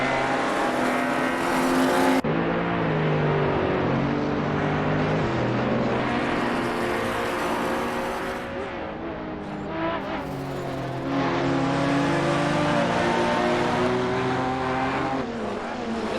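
Race cars duel around the Red Bull Ring in Assetto Corsa, with a KTM X-Bow chased closely through the corners. Engines wail continuously with rising and falling pitch through gearshifts, loud and close, with brief tire squeal.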